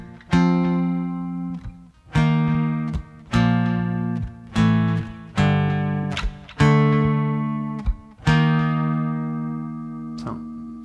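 An acoustic guitar plays the intro accompaniment to a song using simple one-form chord shapes. Loud strummed chords come in a regular rhythm, each one struck firmly and left ringing before the next, with no voice.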